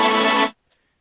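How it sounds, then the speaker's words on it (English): A detuned synth layer built on a square wave plays a bright, buzzy sustained tone that stops abruptly about halfway through, leaving near silence. "Basically a more detuned layer with a square wave on it."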